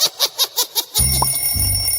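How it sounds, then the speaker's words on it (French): An alarm clock rings in five evenly spaced electronic beeps, loud and close, then stops and gives way to a low rumbling background with a brief squeak. "le réveil sonne"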